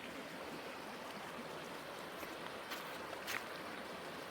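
Water flows steadily over rocks at an open pit mine in Hibbing, Minnesota, giving a constant close rushing wash with a couple of brief brighter splashes near the end.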